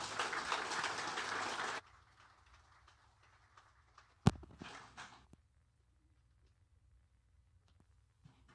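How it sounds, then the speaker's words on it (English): Audience applause for Stacy and the Lifeline team at a Christmas church gathering, a dense burst of clapping that stops abruptly after a couple of seconds, leaving near silence broken by one sharp knock. "Give them another round of applause."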